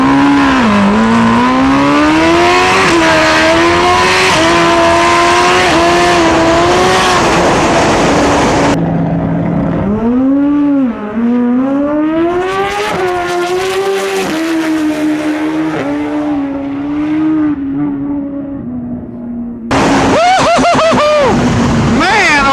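A Suzuki Hayabusa drag motorcycle launches hard down the track, its engine screaming loud and close through rising gear pulls with brief breaks between shifts and a final high-revving burst.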